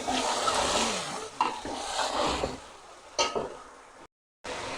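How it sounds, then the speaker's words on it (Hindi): Chicken pieces frying in a pot for nihari, a steady broadband sizzle with stirring and a couple of sharp scrapes against the pot, close and fairly loud, then a brief gap before the sizzling resumes. "चिकन को अच्छी तरह करेंगे फ्राई"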